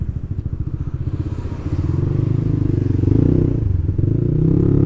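A motorcycle fitted with a racing exhaust idles with a deep, throaty exhaust pulse, then the rumble thickens and grows louder as it revs steadily, close by.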